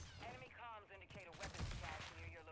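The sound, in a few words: gunfire shooting zombies in a video game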